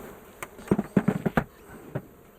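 A cluster of wild bees in a colony taken from a cupboard buzzes nearby, with short close buzzing bursts rising and fading over a soft background hum.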